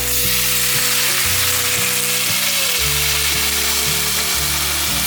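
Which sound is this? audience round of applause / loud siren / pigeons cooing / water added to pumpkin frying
water added to pumpkin frying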